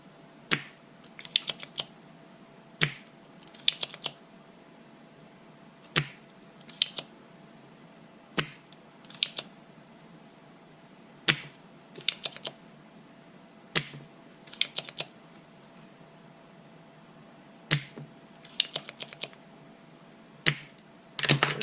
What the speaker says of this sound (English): Now, my solder sucker, make sure it's clean. We'll just pull off all this solder.